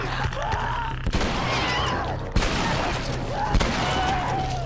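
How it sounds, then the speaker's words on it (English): Bursts of gunfire from The Last of Us on Grounded difficulty crack in three clusters over a low game drone, with an in-game voice heard between shots. "Bill, shoot them again"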